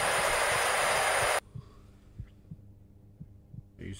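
In a horror video game, a steady heartbeat thumps in a slow, regular pulse under a low hum, after a loud burst of noise cuts off abruptly.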